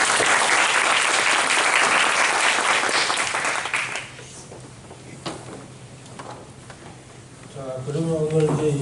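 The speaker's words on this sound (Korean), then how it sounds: "박수!" A church congregation at a Sunday service bursts into loud applause for about four seconds, then it drops to quiet room noise with small knocks before a voice starts speaking.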